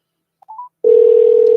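Telephone dialing out to a toll-free number: a few short DTMF keypad tones, then a steady loud dial or ringback tone that holds alone to the end.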